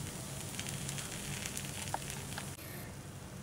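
Stuffed sprout kuzhi paniyaram cook in the pan after being turned, a faint, low, steady sizzle with a few soft ticks and a small clatter partway through.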